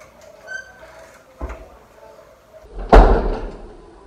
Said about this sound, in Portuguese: porta de banheiro aberta.